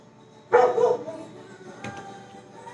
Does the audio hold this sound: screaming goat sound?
no